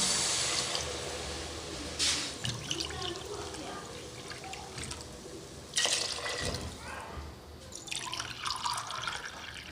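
Water poured from a glass into a pot of rice for a village-style chicken pulao, making a steady close splashing pour with a few louder gushes and brief pauses between glassfuls.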